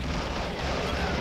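A T-50 tank firing a high-explosive shell in Men of War: Assault Squad: a loud, dense, rumbling blast that fills the whole moment with booming battle noise, with no clear break.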